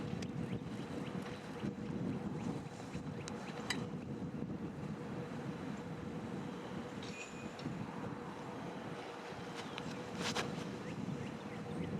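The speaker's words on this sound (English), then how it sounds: "there's still a good amount of wind that we're trying to navigate here" Steady wind rushes and rumbles across a disc golf course during a professional women's tournament round, a constant low roar from microphone buffeting with a few faint higher clicks.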